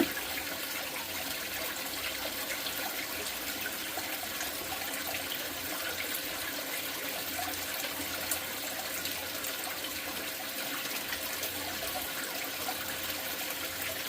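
Water runs steadily through a gold cube concentrator carrying super fine concentrates from floor sweeps, a constant even wash and trickle that holds for the whole stretch with no voices.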